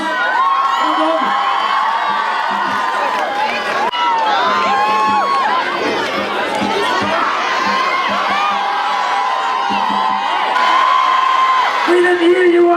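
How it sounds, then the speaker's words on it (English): Large Donegal crowd at a 2012 Sam Maguire homecoming, loud continuous cheering and whooping with shouts over a sustained roar, close and dense throughout, with a voice addressing the crowd over it. "Let's give them a round of applause."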